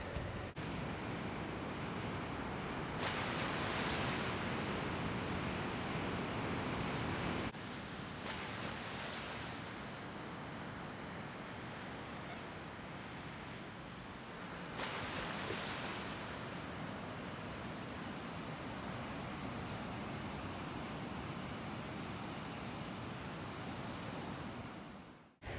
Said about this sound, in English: enjoy the sounds of the beach